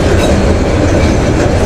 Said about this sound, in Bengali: বাবা অনেক বড় ট্রেন, গ্যাসবাহী ট্রেন মনে হয়